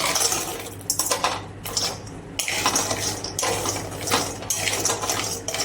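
Walnuts tumble into a metal pan while making homemade protein powder, producing a bright, continuous rattle and clatter of hard nuts scattering against the pan, close and fairly loud throughout.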